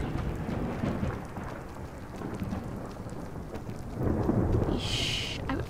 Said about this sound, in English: I would very much like this rain to let up.